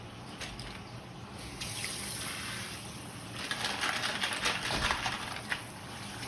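Clams being rinsed under a running kitchen tap, a steady close rush of water splashing over the shells, growing slightly louder and busier toward the end, with no talking.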